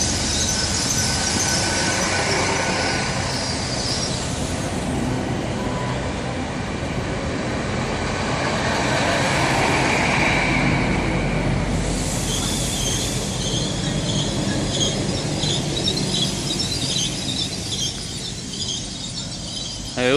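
An HST high-speed train rolls into Bristol Parkway station, with loud screeching wheel and brake squeals over a rumbling approach, rising and fading as it slows alongside the platform.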